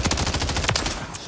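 Rapid automatic gunfire in a Modern Warfare 3 team gun game match, a dense close burst of shots in quick rhythm lasting the whole moment.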